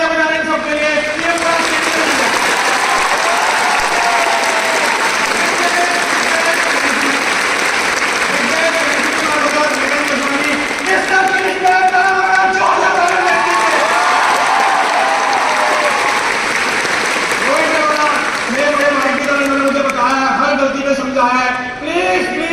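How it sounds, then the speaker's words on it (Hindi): A big crowd at a corporate success-day event in Delhi claps continuously and loudly throughout, with a host's voice and some cheering riding over the steady applause. "प्लीज इतनी जोर से तालियां बजाने सबके लिए।"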